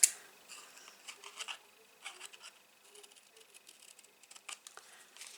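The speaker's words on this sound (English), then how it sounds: "And then I'm going to trim a tiny little bit more off these sides." Scissors trim the paper sides of a handmade tea light gift box, giving faint, close, irregular snips and crisp paper rustles in quiet surroundings, with no talk.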